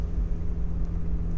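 A 1990 Mazda Miata's small four-cylinder engine runs steadily at idle on a chilly day, a low even rumble with a slight rasp, close by and with no one talking.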